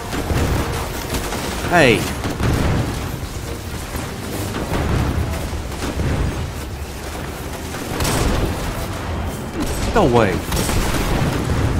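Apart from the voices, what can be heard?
gunfire in the video game Destiny 2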